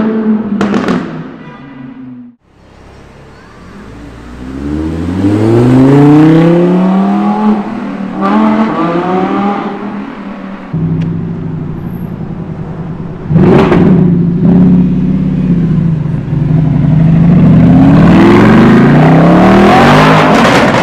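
Audi R8 supercar engines, a V8 and a 5.2-litre V10, revving hard in repeated sharp rises and falls, loud and close, with crackling pops between blips and no talking.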